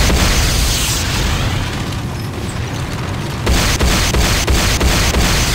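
A structure blows apart in a Command & Conquer battle with a heavy, sustained roaring blast, a dense wall of rumbling noise that dips briefly in the middle and then surges again with crackling debris.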